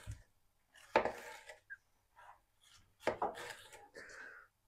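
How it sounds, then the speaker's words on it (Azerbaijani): Half a bell pepper is cut with a kitchen knife, giving two crisp, close chopping strikes about two seconds apart, with softer knife and board taps between them in an otherwise quiet kitchen. "Bunu belə doğrayıram."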